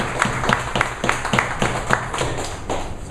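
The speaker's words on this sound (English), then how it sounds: "big round of applause for Rashmi." A small workshop audience claps in a quick, steady rhythm of distinct close hand claps lasting a few seconds, with no voices over it.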